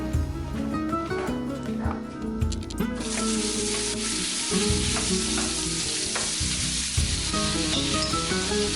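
Sliced chorizo sizzles loudly in extra virgin olive oil for Spanish tapas, a dense, constant frying hiss with occasional stirring scrapes close to the pan.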